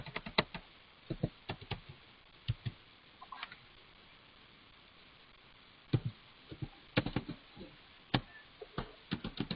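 Code being typed on a computer keyboard, keys clicking in quick irregular bursts with a pause in the middle, close and moderately loud, no voice over it.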